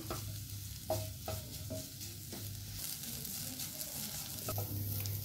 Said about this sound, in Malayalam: മീഡിയം ഫ്ലെയിമിൽ വെച്ചിട്ട് ഒന്ന് കണ്ടിന്യൂസ് ഇളക്കി കൊടുത്തുകൊണ്ടിരിക്കുക